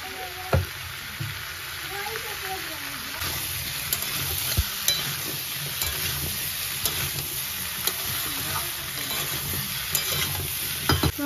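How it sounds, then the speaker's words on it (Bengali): Chopped green chilli and ginger stir-fry in a hot pan with a continuous crackling sizzle. Frequent spatula scrapes and taps land at an uneven pace, close and fairly loud. "কেটে রাখা কাঁচা লঙ্কা আর আদা, সব একসাথে ভালো করে কষিয়ে নেব"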